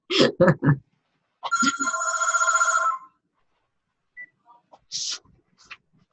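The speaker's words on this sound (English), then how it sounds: "Oh, my phone's ringing." A telephone rings with one long electronic trill, followed by scattered quieter noises; a brief voice is heard at the start.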